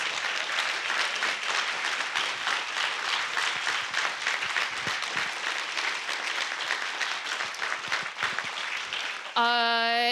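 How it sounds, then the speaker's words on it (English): A crowd gives a long, dense round of applause at the close of a Minnesota-to-Palestine teach-in panel discussion, the clapping steady for about nine seconds before a sustained tone cuts in at the very end. "Give everyone a round of applause"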